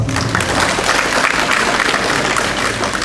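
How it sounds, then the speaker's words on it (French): A crowd applauds at a university event, the semi-final of a Tchiebo universitaire competition, with dense, steady clapping that holds at a loud level throughout and no talk over it. "Veuillez applaudir pour tonton Younoussa."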